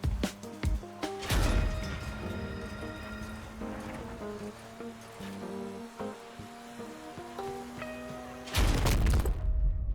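Heavy cannon blasts from armored vehicle combat in the game Crossout: a pair of booming shots open the passage and another lands near the end, with droning engine and tonal game sounds in between.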